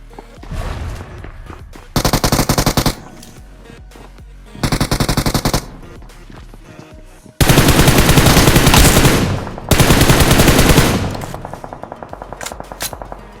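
Loud bursts of automatic machine gun fire from the BGMI battle royale game, several sustained volleys separated by short pauses, with quieter scattered shots between them and no talking.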